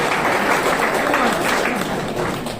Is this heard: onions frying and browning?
no